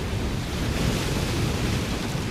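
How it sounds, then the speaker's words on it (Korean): Stormy sea waves crash continuously under strong, roaring wind, a loud, dense and unbroken wash with no voices. "갑자기 하늘이 어두컴컴해지고 바람이 거세게 불기 시작하더니 거친 파도가 치기 시작했습니다"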